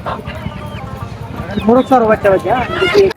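Chickens cluck and ducks call close by in a busy poultry market in Kaoraid, with overlapping clucks and people talking throughout.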